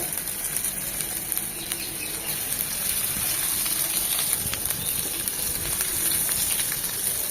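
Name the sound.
frying beef mince seekh kebabs in oil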